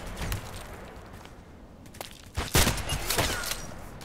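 Sniper rifle shots in a video game, one sharp loud crack near the middle followed by a few fainter reports and echoing game noise, with no talk.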